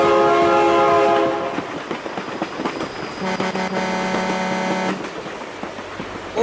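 A train rolls past in the BeamNG driving game, sounding its horn in long sustained blasts over a rumbling, clattering roll, with the horn cutting off partway through and the rail noise carrying on.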